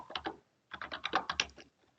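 Quick bursts of computer keyboard typing, a short run of keystrokes, a pause, then a longer rapid flurry of clicks, close and fairly quiet.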